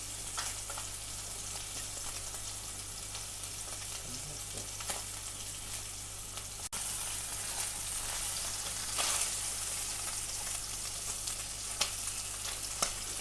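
Duck pieces frying in their own rendered fat for hoisin duck, a steady close sizzle with occasional stirring scrapes and pops, with no one talking.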